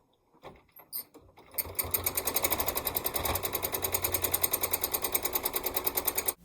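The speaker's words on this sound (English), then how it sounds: "I could just cut out the sewing machine noise." A sewing machine doing meandering quilting on a small quilt starts with a few clicks, then runs in a fast, even mechanical chatter of needle strokes, steady and close.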